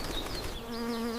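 Bees buzz in a close, continuous drone as wildlife returns to newly watered land in the Sahara, with the hum wavering slightly in pitch and loudness.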